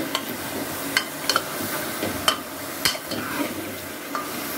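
Mutton is stirred with garam masala in a pan, a spoon scraping and tapping the metal in irregular strokes over a low, steady sizzle, heard up close without voices.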